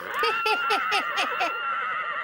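A horse-like neigh, a rapid series of shrill, descending whinnying pulses that trails off after about a second and a half, loud and close with no other sound.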